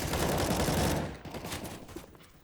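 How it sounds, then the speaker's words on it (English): A short AK rifle burst in a professional CS:GO match at IEM Katowice 2018 on Inferno, a rapid string of shots that fades into quieter scattered fire, with no speech over it. "Dosia backs it up as well with the confidence as his AK will shut down Fallen in seconds"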